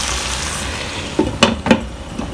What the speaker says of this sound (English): Just put it on simmer and keep stirring it from time to time